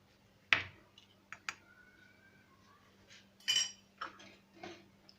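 A small spoon mixes egg white with bitter cocoa in a bowl, giving several scattered clinks and scrapes against the bowl, quiet and close, with no talking.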